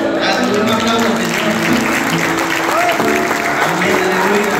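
A church congregation at Refugio in Columbus, Georgia applauds loudly and densely, the dense clapping mixed with voices and tonal cheering throughout, holding at a constant level.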